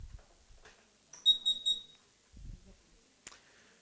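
A quiz buzzer at a national heritage quiz semi-final gives three short, bright electronic beeps in quick succession, with a faint click and some low room noise around them.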